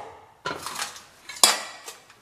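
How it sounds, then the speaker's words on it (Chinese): A cleaver chops through a crab twice, two sharp close whacks on a board about a second apart, each followed by a short clattering ring. "下一步把这个螃蟹从中间剁开，这边再来一刀剁一下"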